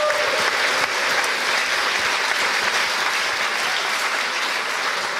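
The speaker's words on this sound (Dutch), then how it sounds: "Geef ze maar 1 keer warm applaus" Dense, sustained audience applause fills a hall after a political debate on a left progressive pact in Amsterdam, an even, loud wash of clapping from a large crowd with no pauses.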